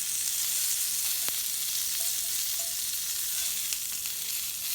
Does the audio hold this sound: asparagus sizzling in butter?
yes